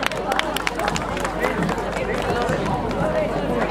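Dense applause from an audience at a Shinoro Shrine festival in Hokkaido fills the whole stretch, with crowd murmur and voices underneath the steady, close clatter of clapping.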